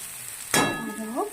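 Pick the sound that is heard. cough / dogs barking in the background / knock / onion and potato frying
onion and potato frying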